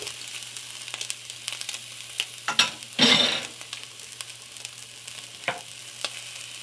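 Tomatoes hit a hot pan of frying garlic chicken, with a steady sizzle under scattered clinks and stirring, then a brief louder burst of spattering sizzle midway, all close-up and without speech.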